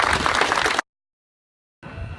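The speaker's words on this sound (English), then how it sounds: "So you really need to applaud yourselves as a community for producing this amazing" An audience claps at a carousel opening in Albany. A burst of applause cuts off abruptly, falls silent for about a second, then resumes more faintly.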